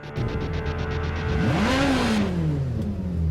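A mid-engine Ferrari V8 with a naturally aspirated engine revs up sharply through its exhaust, the pitch climbing to a peak and then falling away, heard loud and close with no talking.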